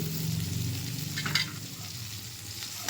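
Dry coconut and coriander frying in a pan for a roasted-masala goat meat curry, a steady close sizzle with scraping stirs and one brief louder clatter midway, no talking.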